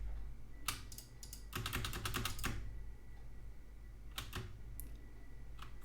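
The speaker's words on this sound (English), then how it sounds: "You can see I can very easily advance a lot of frames by holding the spacebar." Computer keyboard keys clatter in quick bursts while a spacebar is held and tapped to advance frames in a game emulator, close but fairly quiet, with short clusters of clicks separated by pauses over a low background hum.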